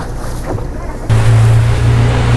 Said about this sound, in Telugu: మాదే లాస్ట్ బోటు చాలా జాగ్రత్తగా డ్రైవ్ చేస్తున్నాడు డ్రైవరు